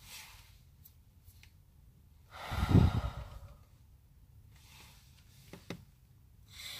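One deep breath drawn in, held, then released as a single heavy exhale, close to the microphone against a quiet background, with a couple of faint clicks afterward and no talking.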